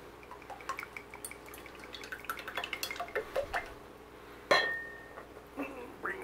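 Homemade carbon 60 avocado oil drips and trickles from a bottle, with a series of light drips and small clinks of glass followed by one sharper knock and a brief ringing tone.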